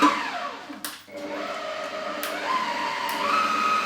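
An electric stand mixer whips egg whites for meringue with a steady loud whirring hum, rising slightly in pitch as the speed increases, and no voices over it.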